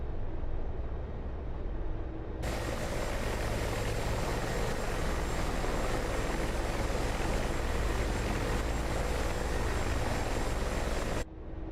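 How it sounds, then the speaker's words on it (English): A Mi-24 Hind helicopter landing in the DCS flight simulator, a loud continuous rotor and turbine roar that cuts in abruptly and holds steady with a thin high whine on top, then cuts off sharply. "They reckon to treat this aircraft as a little bit of a more of a plane than a helicopter when landing"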